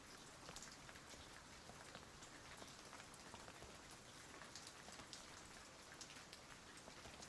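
Steady rain pours in the video game Chronique des Silencieux, a dense continuous hiss of drops with faint pattering, even and unbroken throughout with no voices.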